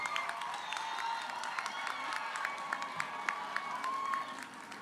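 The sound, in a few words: audience applause at commencement ceremony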